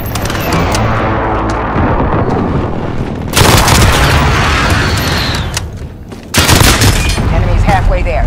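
Precision airstrike explosions in a Call of Duty Modern Warfare team deathmatch: heavy booms and crackling blasts hit around 3.3 and 6.4 seconds over steady battle noise and gunfire, with voices in the mix.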